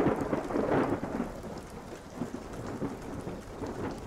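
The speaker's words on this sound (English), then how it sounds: "It's raining again." Steady rain falling on surfaces with a deep rumble of thunder rolling through, strongest at the start and then fading into a continuous wash of rainfall, with no voices.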